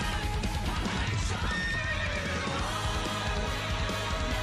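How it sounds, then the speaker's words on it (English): A space horse neighs and whinnies in a video game, its gallop clip-clopping steadily beneath, loud and close over busy game music with no talk. "Of course, summon a space horse."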